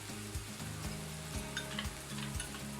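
Spices and tomato puree for a prawn malai curry fry in a pan with steady sizzling and rhythmic stirring scrapes, close and fairly quiet, no voices.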